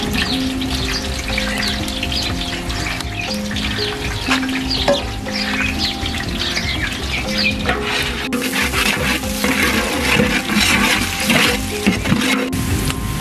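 Sliced onions frying in hot ghee for a chicken pulao, a loud steady sizzle and crackle running close and continuous throughout, with some clattering partway through.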